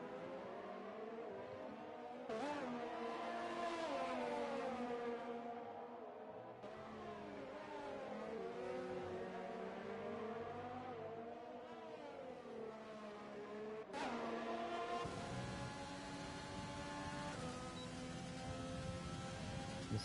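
Formula 1 cars in the F1 2020 video game howl around the Brazil circuit, engines rising and falling through gear shifts with abrupt pitch jumps as the camera cuts between cars; loud, continuous and without speech.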